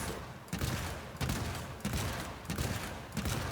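Weapon fire while testing the Scourge build in the video game Warframe: six heavy, booming bursts at roughly even intervals, each with a rumbling tail, loud and close with no talking over them.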